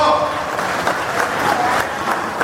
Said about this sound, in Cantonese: 我哋掌聲歡迎出面嘅朋友入嚟呢度坐。